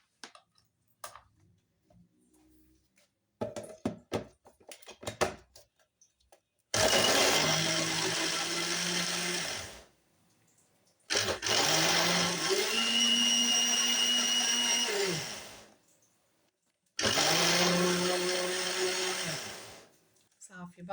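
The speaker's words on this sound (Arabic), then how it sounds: "نجيب الماكينه ونطحن هذا الخليط" Electric grinder whirring through a hair-treatment mixture in three loud bursts of several seconds each, separated by short pauses, with scattered handling clatter beforehand.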